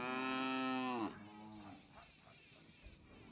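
One long, loud, harmonic moo from stray cattle housed at a gaushala cattle camp in Gujarat, India, followed by a shorter fainter low call and quiet ambient farm noise.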